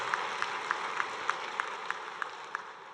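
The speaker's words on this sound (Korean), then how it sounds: "우리 격려의 박수 해주시기 바랍니다." A church congregation applauding at an ordination service, heard as a steady wash of clapping from the room with regular sharper claps standing out near the front, and no voices.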